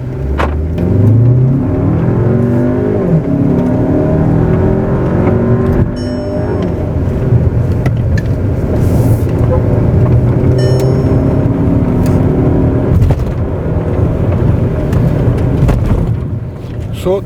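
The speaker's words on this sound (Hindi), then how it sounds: "अब हम just look at the sudden acceleration on sports mode." A 2020 Skoda Superb pulls away hard in sport mode, its engine note rising loud and steady from inside the cabin, with a smooth continuous roar and a couple of brief gear-change dips, while someone talks over it.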